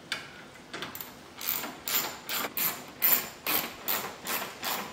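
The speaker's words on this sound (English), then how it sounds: "now all I gotta do is put them screws back in" Screws are driven back into a new grille on a Toyota Land Cruiser 79 Series with a ratcheting hand tool, about nine short, even, close ratchet bursts in steady rhythm, no talking.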